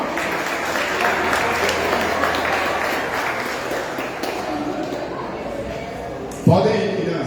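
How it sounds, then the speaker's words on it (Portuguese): A church congregation applauds during a service, a broad, sustained clapping from a crowded room that fades slightly toward the end before a voice speaks up. "Você pode aplaudir ao Senhor?"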